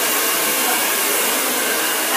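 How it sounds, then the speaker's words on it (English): A hair dryer blows loud and steady throughout, a continuous broadband roar as freshly coloured hair is blow-dried in a salon, with no pauses or talk. "I don't know if everyone can hear us clearly or not because of the dryer"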